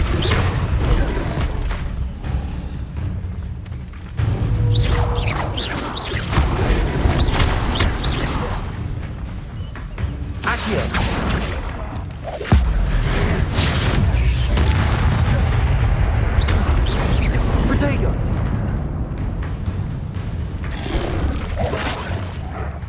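In Hogwarts Legacy, the Incendio fire spell gives repeated loud booming, crackling blasts of flame among game effects, with dense rumbling bursts that run almost without a break.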